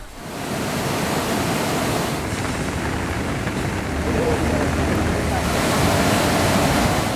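Floodwater rushing through the opened spill gates of the Parakrama Samudra reservoir, a steady loud broadband roar of churning water, continuous and unbroken, heard alone without talk.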